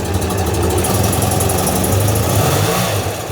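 Restored BMW R100RT motorcycle with rebuilt engine, oil pump, timing, clutch and carburetors idles steadily and close by, a low even throb running for the whole stretch with no voices over it.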